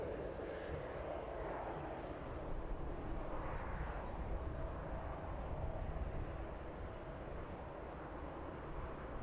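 A Maersk Boeing 767 passing overhead near East Midlands Airport at Kegworth, a faint, distant jet rumble with a soft whooshing rise and fall, steady throughout and unaccompanied by talk.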